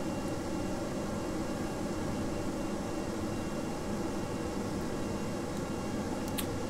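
Steady, loud roaring rush of rocket engines firing on a fighter-bomber in Kerbal Space Program, a continuous broadband thrust noise with no breaks, heard alone without talk.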